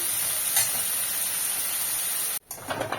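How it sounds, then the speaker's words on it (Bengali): Salted onions fry in a pan until reddish for a Bengali egg and pointed gourd curry, a steady close sizzle that cuts out abruptly near the end before a brief clatter of stirring. "পেঁয়াজটা একটু লাল লাল করে ভেজে নেব"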